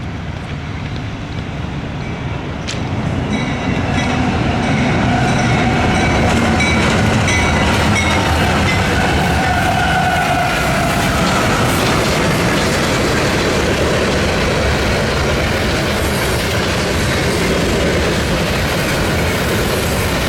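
Freight train rolling past with an R.J. Corman Semiquincentennial locomotive and two BNSF units in the consist, a loud continuous roar of wheels and clattering cars close by with occasional squeals, no talking.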